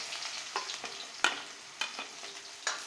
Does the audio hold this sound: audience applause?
no